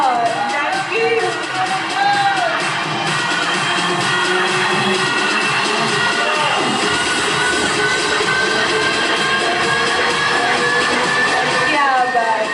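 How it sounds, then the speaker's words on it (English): An audience at a pageant press conference cheers and whoops steadily, a loud sustained crowd roar mixed with people talking. "Yeah, here comes the cheering."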